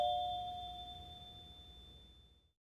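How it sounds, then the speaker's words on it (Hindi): Doorbell ringing with a single clear electronic chime that rings out and slowly fades over about two and a half seconds, over a low background hum. "दरवाजे की घंटी बजती है।"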